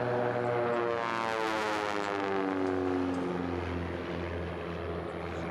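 A propeller racing aircraft roars past at the Reno Air Races, a loud droning engine tone whose pitch slides downward as it passes, steady and without talk.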